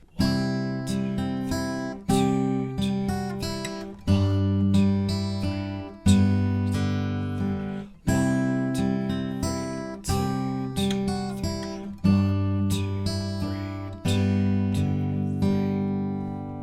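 Fingerpicked acoustic guitar plays a repeating pattern of plucked chords and bass notes from Silent Night, ringing out clearly and evenly with no voices.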